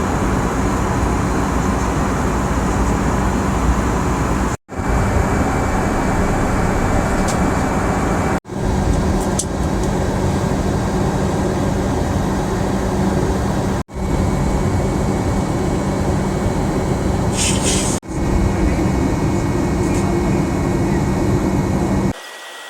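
Steady, loud airliner cabin roar during a smooth flight along the Icelandic shoreline, a constant broadband engine and air rush broken only by a few brief cuts.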